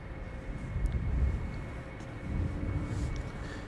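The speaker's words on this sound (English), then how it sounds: "KLM Embraer 190, KLM flight 1175 to Stavanger." A KLM Embraer 190 jet departing Amsterdam Schiphol on a flight to Stavanger gives a steady, broad engine rumble that swells slightly and holds at a moderate distance, with no voices.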